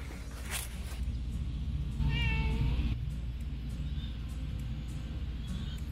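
A rescue cat gives one clear meow up close, with a couple of faint fainter mews later over a steady low rumble of background noise.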